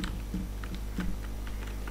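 Computer keyboard typing a label into an HTML form: a brief run of light, quick keystrokes over a steady low hum.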